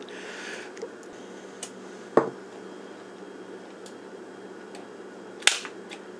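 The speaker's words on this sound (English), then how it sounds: "if you trigger the shutter without a battery in the camera" A Pentax 6X7 MLU medium-format camera, fired with no battery inside, makes a single sharp mechanical shutter snap. A second crisp click follows a few seconds later, both close and dry against a quiet room hiss.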